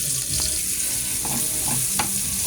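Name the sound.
onion and chili frying with pork liempo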